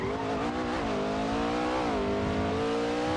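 A loud car engine in GTA V holds a steady high drone, pitch dipping and rising slightly as the revs shift, continuous and close for the whole stretch, with no voices.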